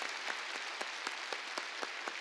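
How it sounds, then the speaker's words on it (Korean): Church congregation clapping together at a Wednesday worship service, a steady fast rhythm of synchronized claps in unison, moderately distant and alone without talk. "빨리 박수치라고."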